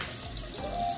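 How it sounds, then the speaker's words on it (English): Water runs from a bathtub tap in a steady, close, continuous rush, with no voices over it. "All right, let the water run."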